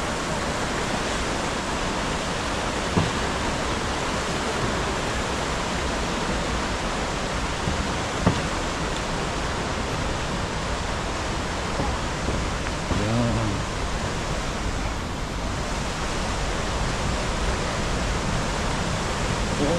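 Steady broadband roar of Johnston Canyon waterfall in Banff, Alberta, loud and constant from close range, with a few faint voices and footsteps briefly audible beneath the rushing water.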